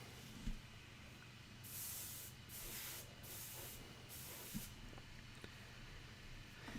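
An airbrush sprays paint onto a Warhammer 40k Necron Overlord miniature in several short soft hissing bursts, faint and close, over a low steady compressor hum.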